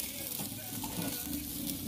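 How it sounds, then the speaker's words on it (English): Steady sizzling of pork frying in a hot pan, a continuous crackling hiss at moderate volume with no talking. "This is my pork over here, so I go and sizzle."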